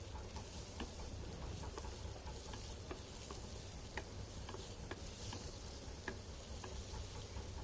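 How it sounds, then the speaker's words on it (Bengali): Vegetables for a Bengali palong shak (spinach) dish fry in a pan with salt and turmeric, a steady sizzle under repeated close spatula scrapes and clicks as they are stirred. "নুন হলুদ দিয়ে ভালো করে ভেজে নিতে হবে সবজিটাকে।"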